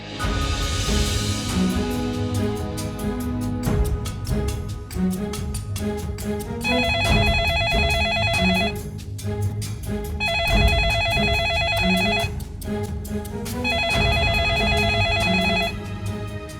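A phone ringtone plays repeatedly in loud bursts over a dense musical background, with short pauses between rings.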